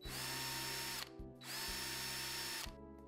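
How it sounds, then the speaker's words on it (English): A power drill bores mounting holes for a Grundfos SCALA2 pump, running in two loud sustained bursts with a steady whine, a brief pause between them and a slight drop in pitch as each hole finishes. "Start by marking out and drilling the holes in your chosen location for the pump."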